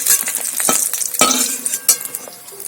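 Hot oil sizzles and crackles as chicken fries in a wok while a utensil stirs and scrapes, with sharp bursts of spitting between the strokes.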